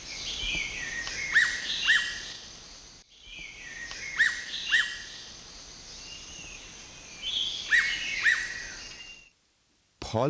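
Forest birds at Satchari in Sylhet give sharp, repeated chirping calls in short bursts, several phrases spread across the clip over a steady background hiss, with a brief silent gap near the end.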